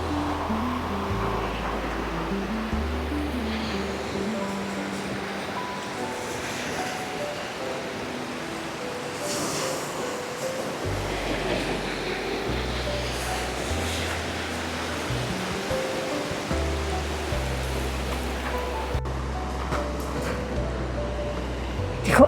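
Ocean waves wash steadily onto an empty beach at sunset, a continuous broadband roar of surf with no distinct individual breaks, moderately loud and unbroken throughout.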